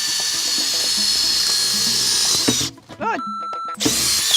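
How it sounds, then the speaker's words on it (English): A power drill bores a hole into the body of an RV during a roadside repair, its steady loud whine running nearly continuously before a short pause and restart, with a person speaking briefly over it. "Just drill yourself a hole there"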